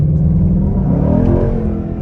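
A 2020 Ford Mustang GT Premium convertible engine revs hard with a brief wheel spin, a loud close low rumble and roar that swells and holds before easing slightly.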